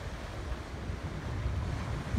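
Steady broadband roar of ocean surf at a campground mixed with wind buffeting the microphone, continuous and moderately loud, no voices.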